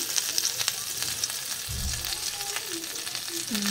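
Spice paste with tomatoes frying in a pan, a continuous close sizzle and crackle with a brief low stirring thump midway and a few short squeaky scrapes near the end.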